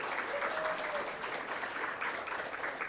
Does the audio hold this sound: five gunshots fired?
no